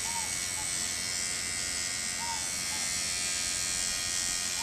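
An electric toothbrush buzzes against tomato flowers in a Las Vegas garden to shake the pollen loose. It makes a steady, close, unbroken hum for the whole stretch, with a few faint chirps in the background.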